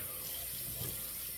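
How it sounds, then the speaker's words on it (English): Water runs steadily from a bathroom tap into a sink while the face is rinsed after a shave, a constant close hiss with no voices. "We'll rinse the face off, getting off the styptic residue."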